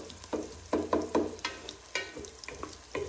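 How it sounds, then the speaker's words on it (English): Onions fry in a pan for Ethiopian collard greens with potatoes: a soft sizzle runs under repeated clattering bursts as the pan is swirled and stirred, close and moderately loud, with no speech. "Fry the onions, swirl it around a bit."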